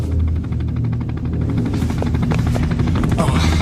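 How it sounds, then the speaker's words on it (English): Helicopter rotor thumps in a steady rapid rhythm, loud and near, with low engine rumble underneath. "Oh, there's my helicopter."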